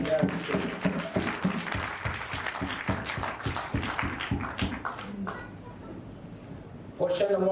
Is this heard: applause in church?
yes